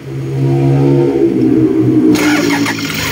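Toyota Fortuner engine restarted after a stalling fault, cranking then catching into a loud close idle with a brief rev and a sharp mechanical clatter near the end.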